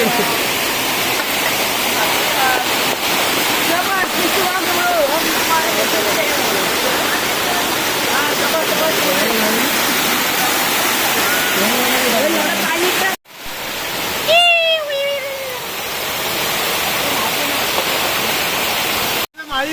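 A monsoon-swollen stream rushes over a small dam after two days of heavy Konkan rain, a loud, constant broadband roar of water up close, with voices talking over it and a brief dip and shift partway through.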